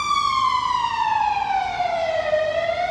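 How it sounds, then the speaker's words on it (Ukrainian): A loud wailing siren sweeps slowly downward in pitch as an emergency vehicle passes close by, with no talking over it. "Вже третя швидка. Зараз, зараз проїде."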